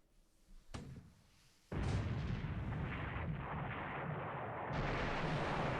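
Allied destroyers firing naval guns and torpedoes in the War in the Pacific game: a sharp blast, then heavy, continuous, loud roaring gunfire and explosions that hold steady to the end with a brighter surge near the close.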